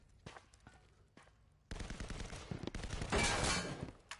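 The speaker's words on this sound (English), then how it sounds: "There's a lot of gunfire, no contact being made on either side" Rapid gunfire from a video game match, a few faint isolated shots at first, then a sustained loud burst of automatic fire with a dense rattling texture, no voices.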